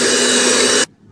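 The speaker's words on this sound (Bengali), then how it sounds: "এরপর এটাকে আবার ব্লেন্ড করব" A kitchen blender roars loudly and steadily while blending red velvet cake batter, then cuts off abruptly into near silence.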